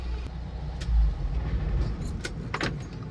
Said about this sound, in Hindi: चलो बैक करके लगा देता हूँ